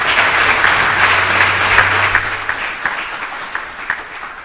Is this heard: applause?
yes